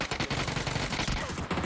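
Rapid automatic gunfire in the battle royale game PUBG: a dense, loud run of overlapping shots fired in quick succession with no pauses, close to the player.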